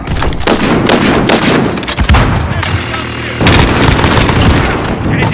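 Rapid, loud automated sentry gun fire in a military shooter game, a sustained barrage of shots with heavy booms and a brief shift in tone midway, dense and close throughout.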